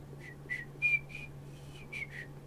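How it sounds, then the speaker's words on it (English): A series of short whistled notes, about eight brief tones in an uneven, melodic rhythm, heard faintly and alone over a quiet background hum during an online blitz chess session. "And we got the whistling."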